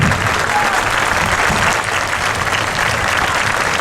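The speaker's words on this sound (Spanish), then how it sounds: "Yo pediría un aplauso para Íñigo porque se encuentra mal." Steady, loud applause fills the hall at a Podemos political rally in Villalba, many hands clapping in a dense, even wash from start to finish.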